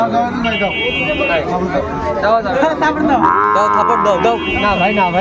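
A cow moos loudly several times in a row at a busy cattle market in Chuadanga, Bangladesh, where Sahiwal cattle are sold, drawn-out lowing calls heard up close amid crowd chatter.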